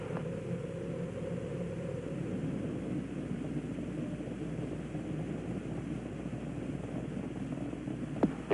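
Low, distant rumble of Space Shuttle Challenger's engines during ascent, a faint steady roar with a broadband hiss and no voices.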